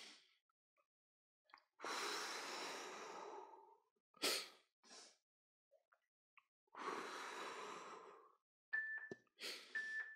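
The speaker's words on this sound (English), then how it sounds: "Inhale up. Exhale down." Deep, slow breaths during an active recovery stretching workout, with long audible inhales and exhales in a steady paired rhythm, close and clear against a quiet background, plus a few small soft clicks.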